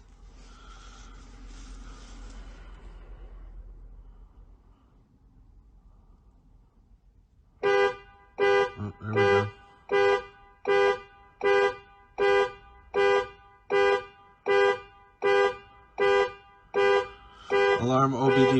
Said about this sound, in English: So we're going to reconnect it and the alarm is going to go off.